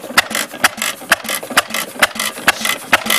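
A 1914 Friend stationary engine runs nearby, giving off a loud, regular rhythm of sharp mechanical knocks, about two per second, over a clattering background.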